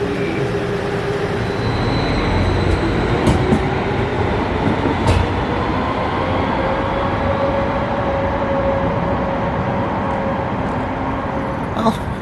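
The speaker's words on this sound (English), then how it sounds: "Here we are, stuck at a grade crossing while the train goes through." Loud, close freight train rolling steadily through a rail grade crossing, a continuous heavy rumble and wheel roar with a faint sustained horn or bell tone and occasional metallic clanks.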